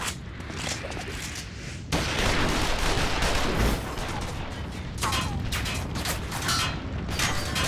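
Gunfire erupts in a frantic video game shootout, dense bursts of shots layered over clanking mechanical noise and booms, loud and sustained throughout with a sharp jump in intensity partway through.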